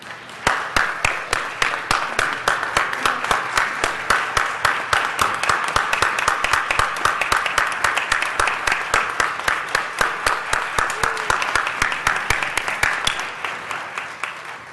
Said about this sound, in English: I think they deserve a huge round of applause in this gallery.